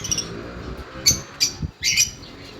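Pet lovebirds and budgies give short, high chirps and tweets in a few quick bursts, close by, with light rustling between calls.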